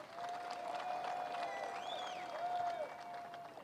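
Crowd applause at a race awards ceremony in Kenya, steady distant clapping from an audience lasting several seconds, with a faint tonal whistle or feedback line running over it.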